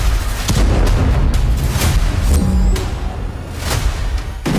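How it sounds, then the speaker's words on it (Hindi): Rocket blasts in Haifa captured by a CCTV camera: several heavy booms in quick succession over a constant loud rumble, distant-sounding and without speech. "हाइफा पर गिरे रॉकेटों के धमाके एक सीसीटीवी कैमरे में दर्ज हुए।"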